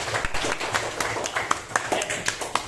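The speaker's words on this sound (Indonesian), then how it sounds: "Tepuk tangan dulu untuk kita semua." A classroom group claps together in scattered, uneven bursts, with sharp hand slaps standing out over a steady murmur of room noise.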